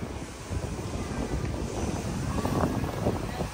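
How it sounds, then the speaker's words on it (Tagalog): Steady outdoor wind buffeting the microphone at the Philippine coast, a continuous broadband rush with gusty swells and a faint wash of waves or a boat in the background, no voices. "Ang hangin lamig kaayo kay."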